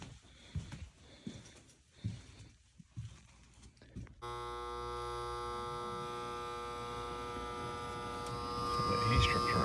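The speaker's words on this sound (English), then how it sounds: "The heat strips are on right now." After a few seconds of faint rustling and breathy sounds, the electric heat strips of an HVAC unit start up with a steady, fairly loud electrical buzz and hum that continues to the end.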